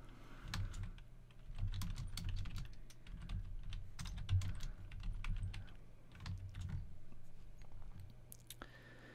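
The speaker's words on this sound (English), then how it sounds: "then you type your text" Steady clicking of computer keyboard keys as text is typed into Microsoft Word, in quick irregular bursts with short pauses, fairly soft and close, with no voices.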